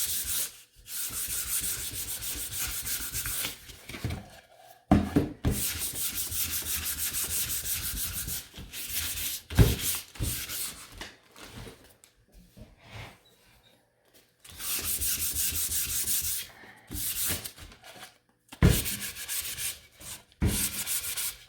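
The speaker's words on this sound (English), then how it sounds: "So now I'm going to sand it again, distress my edges" Hand sanding of a painted wooden spring sign, distressing its edges, gives repeated close abrasive rubbing strokes in bursts with brief pauses between them, and no one speaks.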